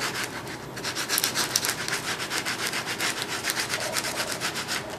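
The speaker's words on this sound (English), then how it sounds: "So you begin by taking the clove of garlic and rubbing it into the" Close, loud rubbing of a garlic clove across a piece of charred bread, a steady rasping scrape repeated in quick strokes with no talking.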